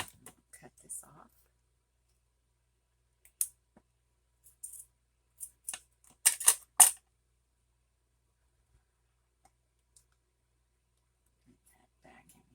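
Scissors snip through an index card in a few crisp, close cuts, with scattered soft handling clicks around them in an otherwise quiet room.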